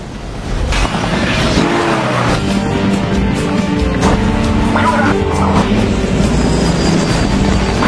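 Cars in a high-speed chase, engines roaring with squealing, skidding tires, loud and continuous throughout, with a voice narrating over the action.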